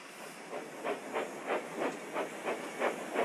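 A steam engine lets off steam in a steady hiss, with rhythmic pulsing chuffs about three times per second at moderate volume.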